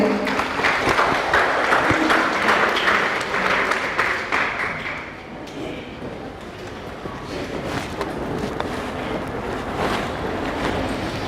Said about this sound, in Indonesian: Mari berikan tepuk kepada Pak Kiai.